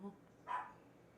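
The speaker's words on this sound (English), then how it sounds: "Now that's my dog barking." A single short, faint dog bark rises briefly out of a quiet room, with low speech-like murmur just before it.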